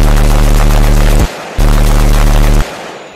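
Two long bursts of rapid gunfire, loud and close, each cut off abruptly with a short gap between, comedic skit setting with no voices.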